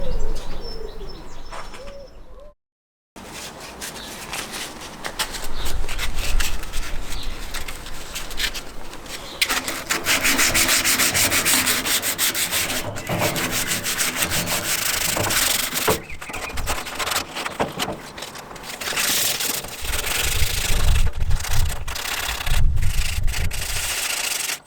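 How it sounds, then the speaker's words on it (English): Sanding a soldered copper patch on a BMW E30 fuel tank, a steady loud abrasive rubbing that runs almost continuously after a brief opening pause, with birds cooing faintly in the background. "so I've given the area a bit of sand"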